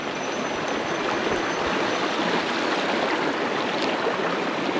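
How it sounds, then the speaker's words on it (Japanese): A mountain stream, a tributary of the Kamikatsura River near Kyoto, flows with a steady, close, full rushing and splashing of water that stays unbroken and even throughout. "入る支流はここですね、山須川っていう支流になります。"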